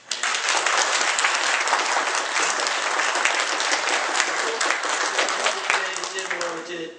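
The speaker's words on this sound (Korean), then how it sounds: "네, 한번 박수 한번 해드리십시오." A church congregation applauding in celebration of a pastor's son's ordination, a dense, sustained wash of many hands clapping at once that holds steady throughout.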